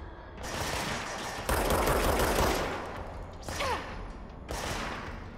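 Enemy gunfire in the video game Control, heard as dense automatic bursts and heavy blasts that come and go in waves over a loud rumbling backdrop, with a few breathy vocal sounds mixed in.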